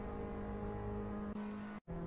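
Engine of a hybrid car mod in the Assetto Corsa racing game, a steady droning hum with a constant pitch that holds level, dips briefly to near silence and then resumes, with no talking.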